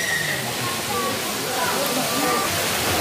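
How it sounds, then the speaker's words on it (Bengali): A mountain stream or waterfall on a trek near Jibhi and Jalori, heard as a loud, steady rush of water that fills the whole scene, with faint voices in the background. "জলের কি সাংঘাতিক আওয়াজ, জলের আওয়াজ এত সুন্দর"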